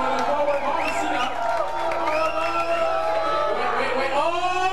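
A wrestling video game crowd roars and whoops continuously, a dense wash of distant cheering with rising shouts, while someone talks over it.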